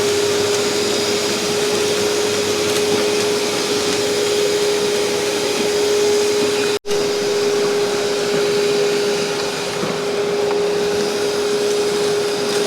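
A Numatic TT3450T cleaner runs continuously at close range as a steady, loud motor roar with a fixed whine. It cuts out for a split second midway, then resumes unchanged.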